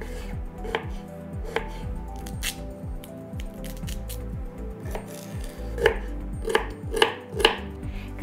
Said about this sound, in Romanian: Frunzele nu le pun, ci doar tulpina. Le spălăm, le tăiem mărunt și le-am pregătit.